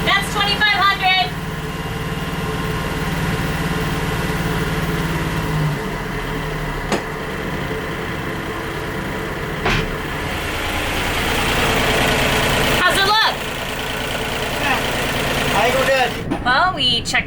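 Boat engines running steadily at around 2,000 to 2,500 RPM aboard a sailboat moored at Huahine in French Polynesia, a continuous low drone with short voices speaking over it.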